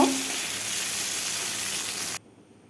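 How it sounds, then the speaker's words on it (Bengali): Potatoes fry in a pan for a khar dish, giving a steady, close sizzling hiss that cuts off abruptly after about two seconds. "আলুটাকেও দিয়ে বেশ কিছুক্ষণ সময় ভেজে নেব"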